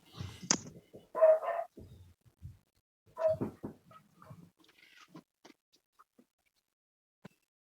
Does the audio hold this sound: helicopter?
no